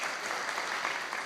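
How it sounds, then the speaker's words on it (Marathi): A crowd at an election rally applauds the women present, a faint, continuous patter of clapping heard from a distance. "त्याबद्दल महिलांसाठी जरा जोरात टाळ्या झाल्या"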